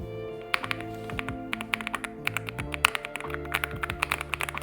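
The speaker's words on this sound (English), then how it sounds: "Typing, the sound's satisfying." Rapid, crisp clacking of keys on a mechanical keyboard, irregular bursts of sharp taps close up over a low steady hum.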